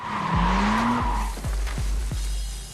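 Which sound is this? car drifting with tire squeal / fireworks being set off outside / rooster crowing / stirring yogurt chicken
car drifting with tire squeal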